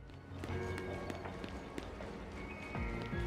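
A creature runs in a video game, its quick patter of footsteps and taps close and steady over a low game soundscape, with occasional tonal swoops and no talking.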